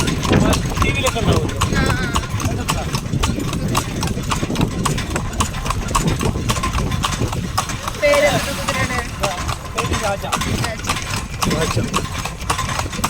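Rhythmic horse hoof clip-clop close by over a running engine at Pothundi Dam, Palakkad, with people talking throughout.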